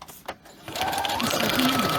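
A sewing machine straight-stitches through paper with a close, steady whirring hum that starts after a brief pause and runs evenly to the end, with a voice briefly heard first.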